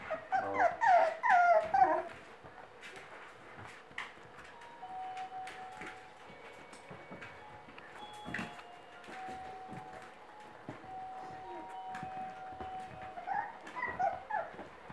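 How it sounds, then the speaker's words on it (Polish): Five-and-a-half-week-old puppies whimpering and growling, with bursts of yips near the start and end and softer whines and rumbles in between. "Jedyny pies, który liże zamiast gryźć, to jest Kibi."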